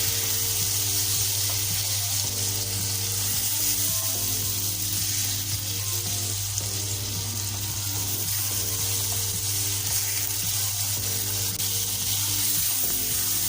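Chopped tomatoes sizzle and fry in a pan for arvi chicken masala, a steady crackling hiss over a constant low hum, close and unbroken.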